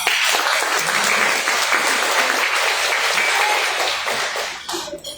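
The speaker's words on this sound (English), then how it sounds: "Let's give them a huge round of applause." A large audience at a fundraiser gala gives graduates a loud, sustained round of applause, dense clapping close and even for several seconds before thinning out and stopping near the end.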